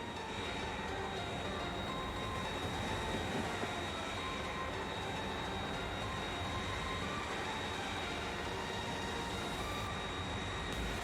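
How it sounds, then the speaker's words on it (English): Train rolling in the Factorio video game, a continuous loud rumble of wheels and carriage noise with a faint steady whine above it, sustained without break throughout. "The train got the one guy."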